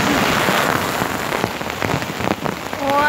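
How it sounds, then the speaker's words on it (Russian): Heavy downpour drums on a tent in a storm on the Azov Sea coast, a dense, loud, continuous patter with sharper individual drop hits scattered through it. "У нас ливень, это палатка."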